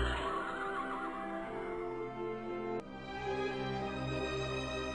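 Horses neigh and whinny in a steady, layered tone that holds for several seconds, fairly close, with no talking.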